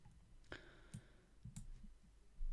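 A computer mouse clicks while working in a Microsoft Excel spreadsheet: three or four sharp, isolated clicks spaced about half a second apart against quiet background hum, with no talking.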